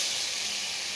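Shrimp sizzle as they go into a pan of fried chopped garlic, a brief, steady, hissing spatter heard close up with no talk.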